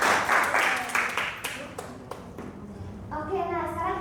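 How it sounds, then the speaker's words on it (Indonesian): An audience at a campus event claps together in a burst of applause that fades within a few seconds, followed by a voice speaking. "Mari kita beri tepuk tangan."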